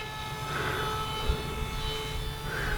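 An RC V-tail model plane takes off with a steady, fairly loud motor whine and propeller drone holding throughout, rising slightly at moments, over constant background noise from nearby construction.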